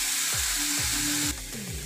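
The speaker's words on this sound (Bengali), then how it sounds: "পেঁয়াজগুলো ভালোভাবে ভেজে নেব।" Onion paste fries in hot oil with cardamom in a pan, a steady bright sizzle broken by several soft scraping stirs, close and fairly quiet with no voices.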